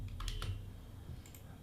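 A short burst of computer keyboard typing, a few quick clicks and keystrokes close by while entering a terminal command, fairly quiet with a low background hum.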